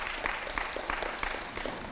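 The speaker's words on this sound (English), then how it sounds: "let's give our students a big round of applause for making their voice known" Audience applause for students at a drama workshop anniversary and proclamation ceremony, a steady wash of many hands clapping at moderate distance throughout.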